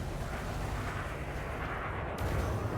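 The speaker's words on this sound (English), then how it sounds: "We're shooting multi-cannons off into nowhere," Multi-cannons fire in a space combat video game as a dense, continuous barrage of booming shots, loud and sustained, with a sharper burst near the end.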